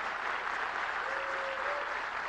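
Standing applause from an audience at a Dominican Republic country-brand launch event in the United States, a dense, steady clapping that holds at even loudness throughout.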